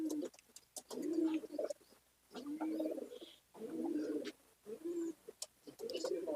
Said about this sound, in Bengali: দেখুন এখানে আবার অ্যাক্টিভনেস দেখাচ্ছে পায়রা